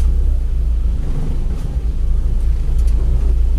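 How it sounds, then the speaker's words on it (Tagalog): A steady low rumble of road traffic, with car engines droning close by and no breaks, fills the air on a busy street in Iligan after a typhoon. "Medyo traffic niyang dapita."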